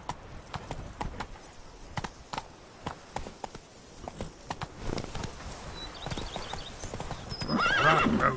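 A horse in a PS5 video game clip-clops at a gallop with rhythmic hoofbeats, then gives a loud whinny near the end; no talk over it.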